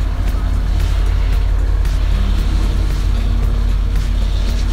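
A 17-metre Vietnamese fishing boat at Cà Ná runs its engine with a loud, continuous low drone and steady churning, unbroken throughout.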